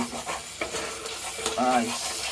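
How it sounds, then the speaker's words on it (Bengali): Potatoes fry in a pan for a chicken dish while a utensil stirs them, giving a loud, steady sizzling hiss with a few scraping strokes against the pan. "দেখি আলুটা একটু নাড়াচাড়া দিয়ে দেয়"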